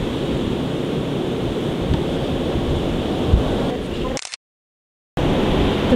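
Sea waves wash onto an Alexandria beach, a steady broadband rush of surf mixed with wind buffeting the microphone, loud and close, with a brief full dropout before it resumes.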